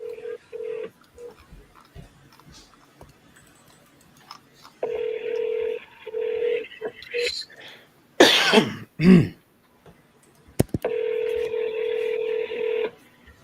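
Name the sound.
telephone dialing tones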